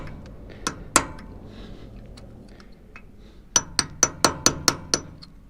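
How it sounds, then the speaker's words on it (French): Pin punches tapping on the sides of a seized, overheated bolt on a SAMRO harvester: a few scattered metallic taps, then a quick run of about seven sharp, ringing strikes close by. "je vais arriver à le sortir en tapotant sur les côtés avec des espèces de chasse-goupilles là"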